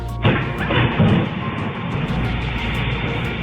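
A loud explosion bursts suddenly, followed by a rumbling roar, crackling debris and a fireball, sustaining at high volume.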